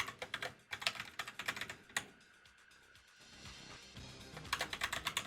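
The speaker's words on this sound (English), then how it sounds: "Sorry if the keyboard's loud." A loud computer keyboard clatters in quick bursts of typing, pauses briefly in the middle, then picks up again with rapid clacking keystrokes, close and alone.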